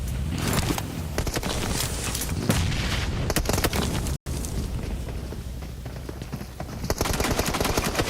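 Rapid gunfire from PUBG Mobile during a PMWC tournament match at EWC, with dense bursts of automatic shots fired into a loot crate, loud and continuous with brief pauses, underlaid by game noise.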